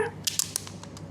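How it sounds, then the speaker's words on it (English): Crinkling and tearing of packaging as a new SIM card is unwrapped in a phone store, a few short sharp crackles close by over a low room hum. "Unwrapping time."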